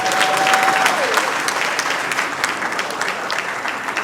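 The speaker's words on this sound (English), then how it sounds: "let's give him a round of applause" Sustained applause from an audience at a government swearing-in ceremony for a newly appointed executive council, a dense, even wash of many hands clapping, loud and continuous.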